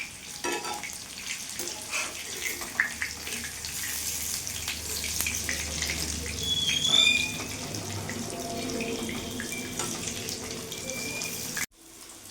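Small prawn fritters frying in oil on a gas stove make a steady crackling sizzle with occasional clinks and shuffles. It runs continuously close by and cuts off abruptly near the end.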